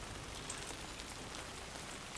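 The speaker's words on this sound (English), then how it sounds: "it's still raining" Steady rain falls in the Death Stranding 2: On The Beach game world near Vana, a dense continuous hiss of drops on surfaces that holds even and unbroken throughout.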